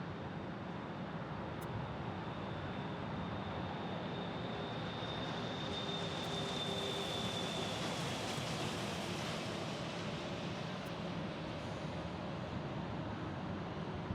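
Boeing 757 jet airliner at Phoenix Sky Harbor airport in the morning, a steady broad engine roar that holds at a constant level throughout, heard alone at moderate distance.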